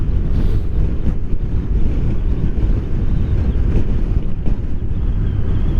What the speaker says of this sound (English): Oh, the wind's blowing through this bloody valley, eh?